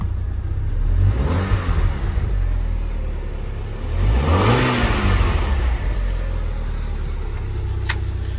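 A Mk5 VW Golf GTI engine with a misfire running rough and low after a cold start, with two swelling revs that rise and fall, close and fairly loud.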